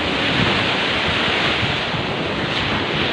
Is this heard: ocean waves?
yes